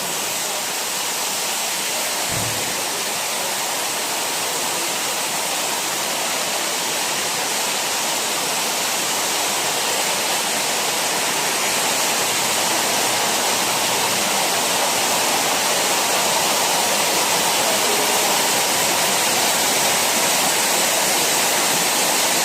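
At the Desert Falls water park in Qatar, a waterfall roars steadily and loudly for the whole stretch, a dense unbroken rush with one brief low thump near the start.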